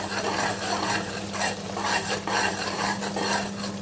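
Spices for beef biryani being stirred and sautéed in a pan, with a steady scraping of the utensil over a continuous sizzle and a low background hum.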